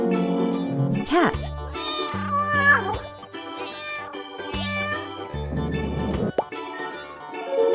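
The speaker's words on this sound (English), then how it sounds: "cat." A cat meows several times in short, clear calls with rising and falling pitch, alternating with a child's spoken words and light musical backing.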